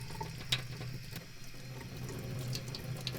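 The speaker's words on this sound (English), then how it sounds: "you gotta wash with the cold water" Cold tap water runs steadily into a kitchen sink while raw shrimp are rinsed clean before being stuffed with crab meat. The splashing is close, continuous and even, with no talking.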